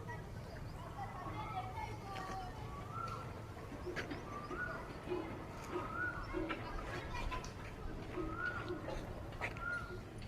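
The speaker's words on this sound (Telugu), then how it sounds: "కోయిల కూడా నా కోసం ఎప్పుడు పలకమంటే అప్పుడు పలుకుతుంది" An Asian koel calls outdoors, with rising whistled notes repeating every couple of seconds at moderate distance over a low murmur of background noise.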